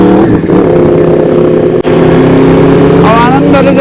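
A group of sports motorcycles, superbikes riding alongside a Mustang in Nepal, roar with a steady loud engine drone that rises in pitch near the end, while someone talks over it.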